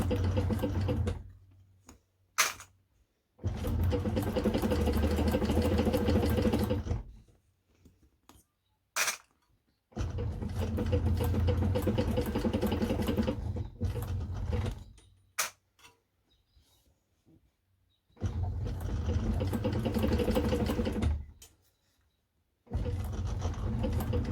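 A Cowboy CB6900 cylinder arm sewing machine runs in several bursts of rapid mechanical stitching while top stitching a bag, stopping between runs with brief clicks and handling noises, no talking.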